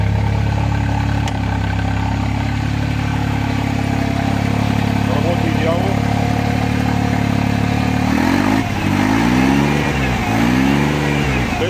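A Toyota 1000 kg petrol forklift engine runs close and loud with a steady mechanical drone, then revs up and down in swelling surges toward the end.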